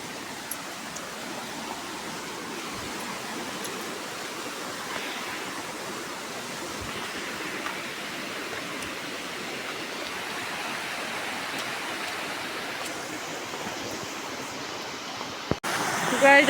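Steady broadband rush of a waterfall and shallow stream along an overgrown jungle path, loud and continuous throughout, with a brief knock near the end.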